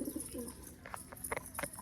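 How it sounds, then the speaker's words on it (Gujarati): Pigeons coo in low, soft bursts, with a few brighter bird chirps breaking in near the end. No one speaks. "જો ભાઈ આપણા કબૂતર"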